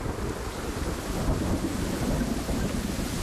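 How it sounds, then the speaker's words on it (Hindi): Steady tropical thunderstorm, with rain pouring down in a continuous wash and low thunder rumbling beneath it, loud and close throughout with no voices. "कुछ जगहों पर ट्रॉपिकल तूफान कभी नहीं रुकते।"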